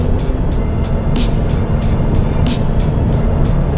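A Mercedes GLC 300 Coupe in Sport Plus mode on a cold day, its engine droning loud and steady as it accelerates along a straight road, with regular ticking clicks over the drone.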